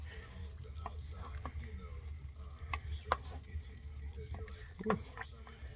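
Smoked brisket chili with beans simmering in a pot, stirred with soft scraping and thick bubbling, a spoon knocking the sides a few times, close and fairly quiet.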